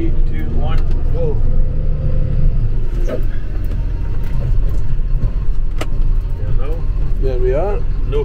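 A John Deere 7530 tractor pulling away with a trailer, a loud, steady low engine rumble close by, with people talking over it.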